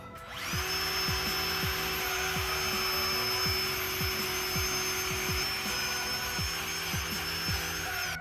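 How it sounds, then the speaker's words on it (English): A power wire wheel cleans the rear brake hub of a MK6 Volkswagen Jetta, a loud continuous close whine with a steady tone and repeated scraping catches as the bristles hit the metal. "Clean it up a little bit, a little wire wheel action, and clean it up"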